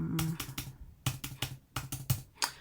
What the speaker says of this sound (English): I'm going to just type in a bunch of numbers here